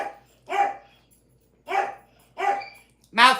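A pet dog named Edward barks indoors in four sharp, separate barks spaced about a second apart, close and fairly loud, with no other sound between them.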